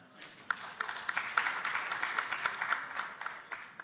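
Audience at the ITU Regional Development Forum for Africa 2018 breaks into steady, dense applause from a sizable crowd, with sharper individual claps standing out and the sound heard somewhat distant.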